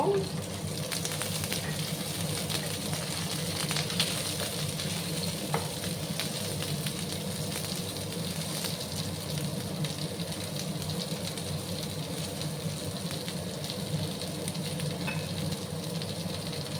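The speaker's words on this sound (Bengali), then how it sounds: "হাই আছে, আমি কিছুক্ষণ ঝিঙেগুলোকে ভাজা ভাজা করে নেব।" Ridge gourd pieces fry in oil in a pan on high heat, giving a constant soft sizzle with occasional clinks and stirring under a low, steady background hum.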